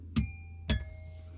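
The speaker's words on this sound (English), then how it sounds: "Got to ring his bell, right?" A bell rung twice at an animal's enclosure, two bright metallic dings about half a second apart, each leaving a clear ringing tone that fades slowly over a low background hum.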